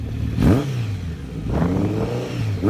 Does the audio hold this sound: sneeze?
no